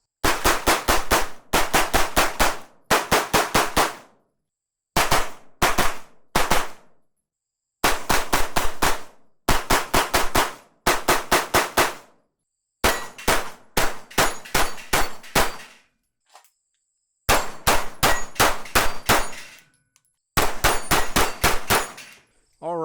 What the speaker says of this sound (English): Pistol shoots fantastic.